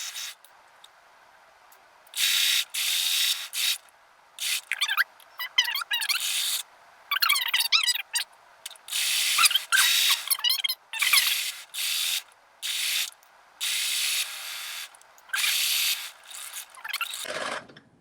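A sewing machine stitches the seam of a long green skirt, Simplicity 9757 View C, in repeated short bursts of fast mechanical whirring separated by quiet pauses.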